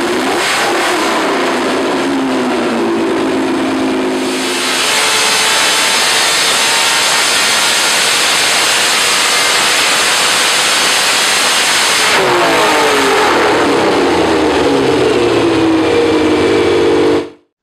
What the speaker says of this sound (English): powered by a 3-liter 12-cylinder engine in a 180 degrees angle, commonly known as a flat 12